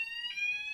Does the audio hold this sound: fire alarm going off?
yes